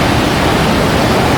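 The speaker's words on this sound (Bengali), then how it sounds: "মানে জলগুলো এসে এখানে পড়ে যাচ্ছে, অসাধারণ।" Steady, loud rush of water falling down a small waterfall beside a road in Joypur forest, Bankura, a continuous broadband roar with no speech.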